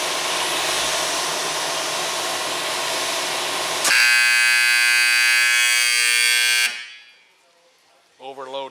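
A washer compactor control panel alarm buzzer sounding after an overload trip: a loud, steady electronic tone cuts in over machine hum, holds for about three seconds, then stops abruptly, followed by a short spoken voice.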